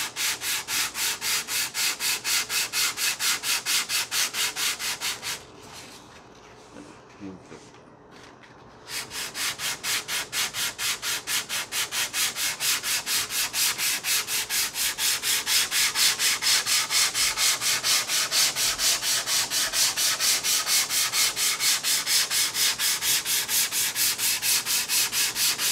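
Sandpaper is rubbed by hand over the wooden parts of a Top Flite P-40E Warhawk model airplane in a steady, close, scratchy back-and-forth rhythm that pauses briefly, then continues unbroken.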